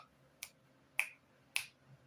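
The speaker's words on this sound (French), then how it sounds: "le mouvement, en fait, c'est un claquement de doigts" Three crisp finger snaps, evenly spaced about half a second apart, sharp and close against a quiet room background.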